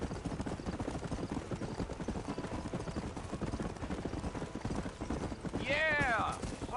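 Horse hooves galloping in the Western game Red Dead Redemption, a steady rapid clip-clop that runs throughout, with a horse whinny rising near the end.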